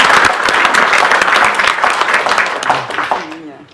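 An audience at a lecture bursts into brisk, close applause, claps dense and lively before quickly dying away near the end.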